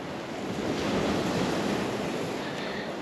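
Sea waves wash steadily onto the shore at Acquacalda on Lipari, a continuous broad roar of surf with some wind noise, loud and unbroken throughout, with no voices.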